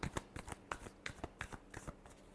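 Tarot cards are shuffled in a quiet room as a series of quick, crisp riffling flicks in an even rhythm. The sound is close and soft.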